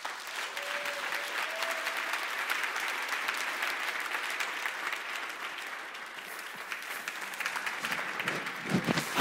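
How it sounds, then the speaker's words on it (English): Warm, steady applause from an audience at a church conference session as a pastor is invited up, dense clapping sustained throughout at moderate loudness with no talk over it. "if we could welcome him with a warm applause"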